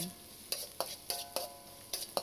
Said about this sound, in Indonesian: Kita tumis sampai harum, layu dan juga agak setengah kering ya